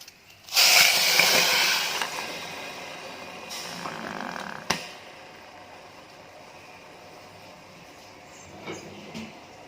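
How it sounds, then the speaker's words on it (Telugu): A sudden loud hiss and bubbling burst as a cup of water hits sugar in a hot pan, fading over a couple of seconds into quieter simmering with a sharp clink. "1 కప్పు వాటర్ యాడ్ చేస్తున్నాను"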